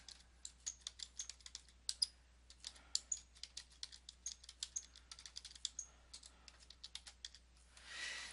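Rapid, light keystrokes on a computer keyboard tap out an irregular run of crisp clicks at close range, steady for several seconds in a quiet room, with a brief soft rustle at the end.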